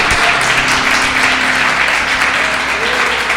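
A church congregation applauds loudly in a steady, dense wash of clapping that fills the whole stretch, with faint voices mixed underneath.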